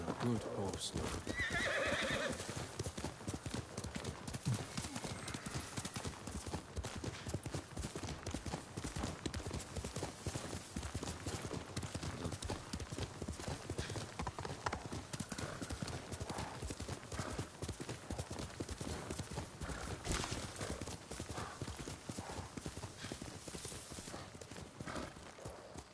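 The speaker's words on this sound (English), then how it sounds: "You're a good horse, Lord." Horse hooves clip-clop steadily and a horse neighs in the video game Ghost of Tsushima, with someone talking over the continuous rhythmic hoofbeats.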